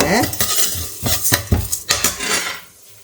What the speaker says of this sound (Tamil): சீரகம் போட்டுங்க ஒரு நாலு வெந்தயம் போட்டுக்கலாம் எண்ணெய் சேர்க்காம ட்ரையாக வறுத்துக்கங்க